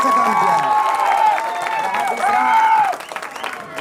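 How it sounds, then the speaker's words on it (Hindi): Applause and crowd noise from an audience at a BSP election rally in Udaipur, sustained for about three seconds over a raised voice and then thinning out. "सबसे पहले तालियां मेरे युवा शक्ति के लिए"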